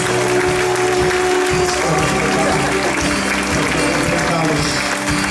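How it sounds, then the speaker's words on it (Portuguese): Congregation in a church standing and applauding, steady loud clapping with music underneath throughout. "Será que a igreja pode ficar em pé e dar aplauso ao Senhor Jesus?"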